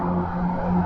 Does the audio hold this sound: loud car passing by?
yes